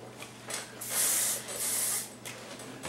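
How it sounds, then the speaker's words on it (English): A can of volumizing hairspray gives two sustained hissing bursts close by, each lasting about half a second, with a brief gap between them and quieter hiss before and after. "I'll go ahead and spray it again with my spray"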